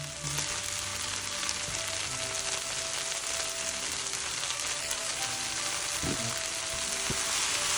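Noodles tossed into a hot pan with shrimp and sauce for Chinese-style stir-fried noodles, giving a dense, continuous loud sizzle close by, with occasional faint stirring knocks.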